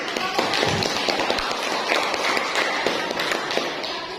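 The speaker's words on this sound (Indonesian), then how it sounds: "Tepuk tangan" Classroom students clap together in a dense, steady patter that stays moderately loud throughout, with some scattered sharper taps standing out.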